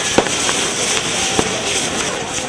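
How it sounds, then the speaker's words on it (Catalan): Festival fireworks rockets going off outdoors, sharp bangs landing at irregular intervals over a dense, continuous crackling roar. "la qüestió és tirar els coets"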